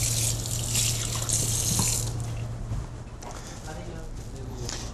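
Cold water runs into a pan of broken sauce, a steady splashing stream with a low hum that fades after a few seconds, leaving softer trickling.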